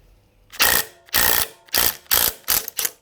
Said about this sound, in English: Right, impact wrench.